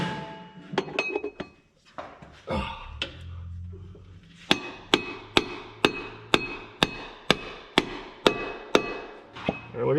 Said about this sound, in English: I got my little driver fancy setup here. A little persuasion from the hammer.